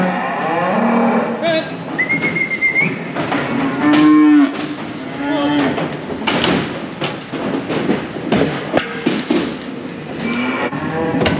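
Cattle being brought in for winter moo repeatedly, loud and close, with several long overlapping calls from different animals and no talk over them.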